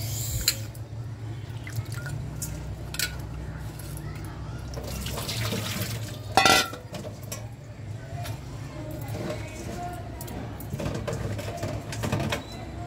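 Takla wild leafy greens being swished and rinsed in water, with dripping and gentle sloshing throughout and one louder splash midway, close by with faint talk at times.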